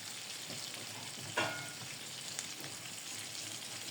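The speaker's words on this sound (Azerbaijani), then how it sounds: "Kotletlərin bir üzü qızardıqdan sonra digər üzünü də çevirib qızardıram." Meat cutlets (kotlet) frying in a pan, a soft, steady sizzle with a single sharp clatter partway through and a faint scrape later, no talking.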